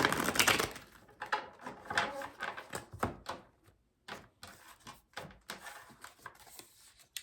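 Tarot cards being shuffled up close, repeated rustling slides and soft slaps in an uneven rhythm, with no voices.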